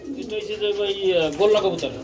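Pigeons coo in a low, throaty warble, a pair kept with eggs at a market stall, heard close and fairly loud in two rolling phrases over a couple of seconds.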